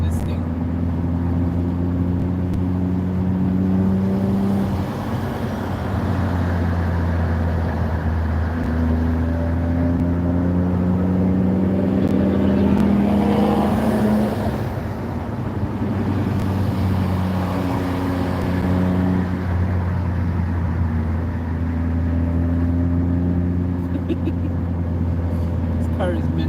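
A car engine drones steadily under continuous close speech while driving, with low harmonic tones rising and falling as it revs.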